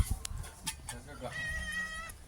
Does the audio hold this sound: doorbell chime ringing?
no